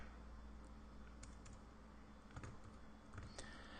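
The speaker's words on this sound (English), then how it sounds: "I'm going to type in match." Quiet typing on a computer keyboard, scattered light key clicks in a few short bursts over a low steady room hum, no voices.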